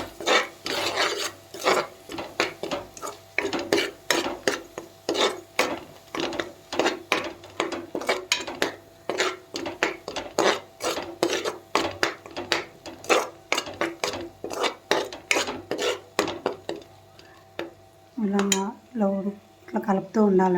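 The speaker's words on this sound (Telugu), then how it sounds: "ఇట్లా కలుపుతూ ఉండాలండి" Grated coconut burfy mixture stirred in a pan on the stove, a steady run of quick rasping scrapes from the spoon against the pan bottom, close and repetitive, continuing through most of the stretch.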